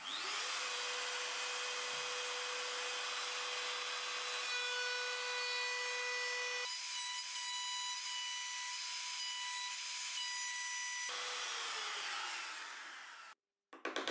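A power saw whines steadily as it cuts a rabbet in wood, pitch shifting a few times, then winding down with a brief clatter at the end.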